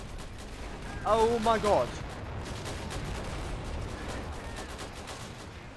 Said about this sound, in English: they have some really powerful artillery